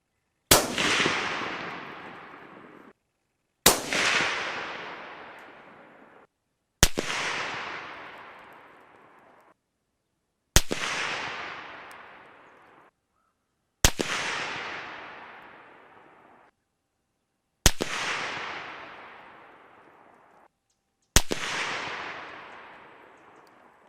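Seven suppressed precision rifle shots firing Federal Gold Medal Match 140 grain through a Surefire SOCOM 7.62 suppressor, each a sharp, loud crack with a fading outdoor tail, spaced evenly about three seconds apart, with no talking.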